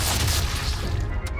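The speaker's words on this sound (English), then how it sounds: "Oh, that's the landmine over there." A landmine goes off in Sniper Elite 5, a loud, sustained low boom with crackling debris that holds steady for over a second before thinning out, with no talk over it.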